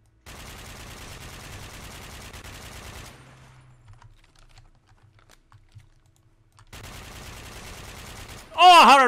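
Automatic gunfire in the Warmode shooter game: two long, steady bursts of rapid rattling shots separated by a quieter gap, ending with a brief loud sharp noise.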